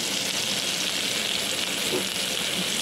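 Vegetables fry in hot oil in a home kitchen, giving a steady, dense, close sizzle that holds even throughout with no talk.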